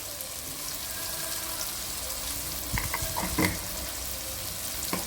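Tomatoes and onions sauté in a pan, giving a steady hiss of frying, broken by a few clinks and scrapes of stirring.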